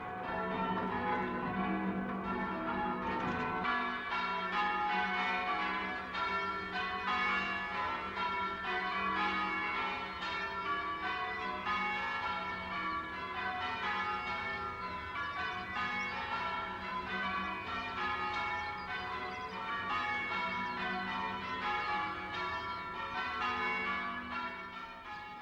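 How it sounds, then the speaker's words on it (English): Village church bells rung by bell ringers at rehearsal peal in a continuous, layered cascade of overlapping strikes, loud and close, with no talk over them. "It's still weeks before the big day as Standon's bell ringers start rehearsing."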